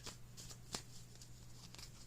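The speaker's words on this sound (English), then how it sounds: "I'll shuffle this deck 2 more times and we'll begin." A deck of tarot cards being shuffled, quiet and close, with a few soft riffling bursts and one sharper snap partway through.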